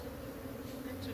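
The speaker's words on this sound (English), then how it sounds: "They have a lot of bees" Dense, steady drone of many honey bees inside a crowded hive, a continuous low buzz with no break across the whole moment.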